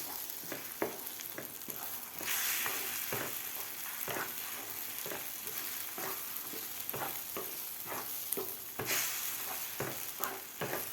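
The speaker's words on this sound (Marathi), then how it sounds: "आता व्यवस्थित आपल्याला हे हलवून घ्यायचं आहे व्यवस्थित आपल्याला हलवायचं आहे" Egg bhurji is stirred in a pan on medium heat, with a spatula scraping and tapping repeatedly against the metal over a soft, continuous sizzle. The sounds are close and moderately quiet, and nobody speaks.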